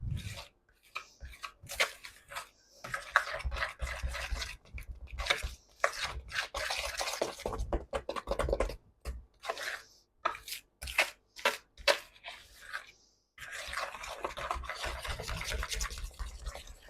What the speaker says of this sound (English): Break the egg yolk and mix.